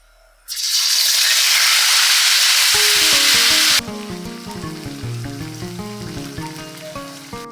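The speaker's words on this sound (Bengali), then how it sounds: "পেঁয়াজের সাথে সাদা তেল দিয়ে দিচ্ছি তেল গরম হয়ে গেছে মাংস দিয়ে দিচ্ছি" Chicken meat dropped into hot white oil with onions sets off a loud, steady sizzle that bursts in abruptly, then drops to a softer frying hiss as a stirring rattle and clatter take over.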